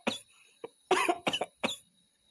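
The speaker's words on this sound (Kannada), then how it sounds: "ಯಾಳಾದ ಕೆಮ್ಮು, ರಾತ್ರಿಯಿಂದ ಮಾತ್ರೆ ತಗೊಂತಾನೆ ಇದ್ದೀನಿ. ಮೇಲೆ ಆಗಿಲ್ಲ." Several harsh coughs from a person in a bad cough spell, loud and close, coming in separate bursts with short pauses between them.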